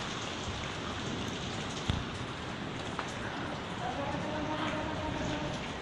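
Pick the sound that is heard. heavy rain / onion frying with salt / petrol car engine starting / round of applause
heavy rain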